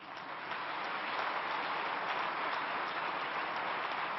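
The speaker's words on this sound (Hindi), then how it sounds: "जोरदार तालियों की गूंज सुनाई देनी चाहिए" Applause at the inauguration of the Sir HN Reliance Foundation Hospital in Mumbai, a steady, dense wash of many hands clapping that swells slightly at the start and holds evenly, fairly soft and distant.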